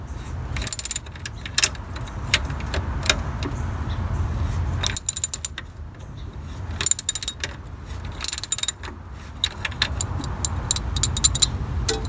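A wrench ratchets repeatedly while a bolt is loosened on a Jeep Cherokee XJ engine during water pump work, giving bursts of sharp metallic clicks and clatter over a low background rumble.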